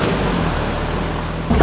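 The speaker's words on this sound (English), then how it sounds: "the exhaust in this car is pretty underwhelming" A 2022 Toyota GR86 gives a steady, low engine drone from its underwhelming exhaust, blended with fake engine sound piped into the cabin, holding even throughout with a slight swell at the end.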